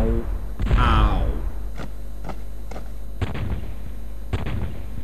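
Artillery in Svea Rike II fires a heavy booming shot, followed by several sharp thuds spaced about a second apart, with speech over the start.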